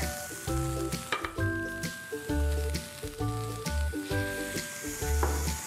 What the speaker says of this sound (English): Now that I've got my aromatics in, I'm gonna put in my garlic.